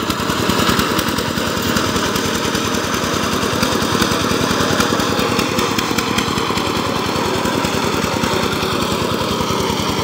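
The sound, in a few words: power tiller engine ploughing muddy land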